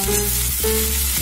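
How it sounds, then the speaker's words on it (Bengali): Continuous loud sizzle of potatoes sautéing in hot oil for Bengali chicken kosha, a steady close frying hiss with no voices. "ভেজে নেওয়ার পর আমি এর মধ্যে আলু দিয়ে একটু সাঁতলে নেব।"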